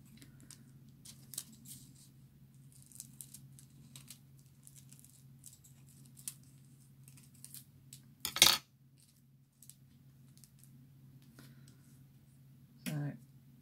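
A sheet of craft foil is trimmed to size off the roll. Quiet snips and rustles are scattered through a near-silent room, with one louder crinkling burst midway and another near the end.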